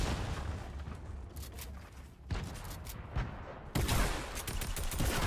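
Bursts of rapid gunfire from a new gun in Fortnite Battle Royale crack out in dense volleys, pausing briefly before a louder, sustained barrage resumes near the end.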